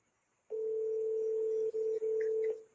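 A single long, steady electronic telephone tone sounds during an outgoing call, clear and alone, with two brief dropouts near the end.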